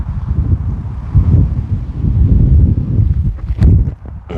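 Strong outdoor wind gusts buffet the microphone in loud, low rumbling bursts that swell and ease over a few seconds, with faint rustling on a disc golf field.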